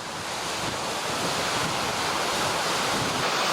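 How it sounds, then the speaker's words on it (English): Strong wind and rough ocean surf pound the Newfoundland coast along the Seaview Trail at Norman's Cove-Long Cove, a loud continuous roar with wind buffeting the microphone and no voices. "As you can hear and see, it's getting a little rough out here. The winds are blowing."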